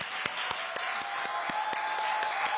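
An audience at a book-launch event applauds, a dense sustained wash of clapping with a few sharper claps standing out at a steady rhythm, filling the hall throughout.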